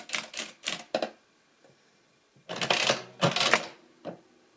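A Brunsviga 90 TA mechanical adding machine clatters through its cycles: a few quick metallic clacks, a pause, then longer rattling mechanical runs, heard close up with no talking.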